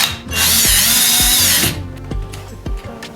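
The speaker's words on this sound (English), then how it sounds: "I'm going to use a 3mm drill bit in a drill." A power drill fitted with a 3mm bit whirs in one high-pitched burst of about a second, followed by a few clicks and knocks.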